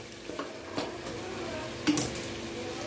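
Vegetable pulao with tomatoes and spices being stirred in a pan, soft scraping strokes and a couple of sharper clinks over a low steady sizzle, quiet and close, with faint talking in the background.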